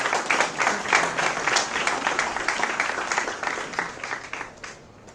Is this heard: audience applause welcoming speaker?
yes